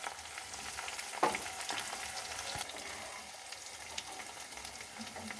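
Spices sizzle steadily in hot oil for a prawn malai curry, a ground paste with chili powder and Kashmiri chili powder, with a sharper scrape of stirring just after the first second and no talking.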